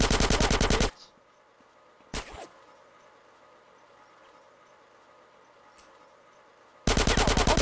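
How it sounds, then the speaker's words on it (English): Rapid automatic gunfire in GTA San Andreas, loud bursts at the start and end with a single sharp shot in between, separated by a stretch of quiet ambient background. "Who's still shooting me here though?"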